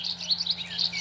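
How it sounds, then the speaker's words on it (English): Recorded western meadowlark song from a Wild Republic Audubon plush bird, a bright run of high fluting whistles and chirps filling about a second, alone over a low constant hum. "Western meadowlark"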